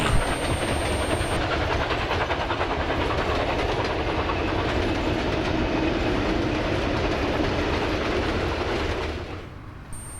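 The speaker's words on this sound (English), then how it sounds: "The train has finally left Kiama and is now heading its way back to Sydney." A train rumbles and clatters steadily as it pulls away from Kiama station in New South Wales, with rhythmic rail clicks and hiss, fading off toward the end.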